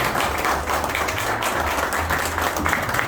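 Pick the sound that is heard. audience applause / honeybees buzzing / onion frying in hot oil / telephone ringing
audience applause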